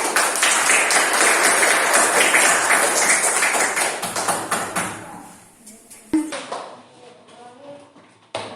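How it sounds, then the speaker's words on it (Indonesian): Classroom applause for a performing student group, a burst of close clapping that fades after a few seconds into scattered taps and light clatter, with voices heard near the end. "Kita berikan tepuk tangan untuk kelompok kolom."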